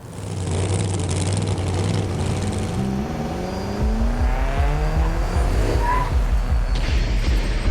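A car engine runs steadily while driving, a loud continuous drone with low rumble that deepens partway through as the engine note shifts, close and with no talking over it.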